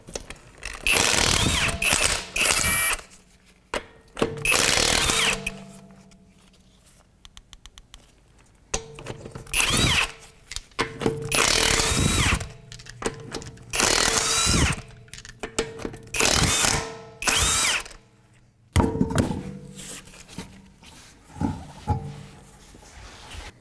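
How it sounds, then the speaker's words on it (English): Power tool with a 22mm socket spinning off the wheel lug nuts of a 2008 Acura MDX, about nine loud close bursts of whirring and rattling separated by short pauses. "we're going to take our wheel off and use a 22mm socket"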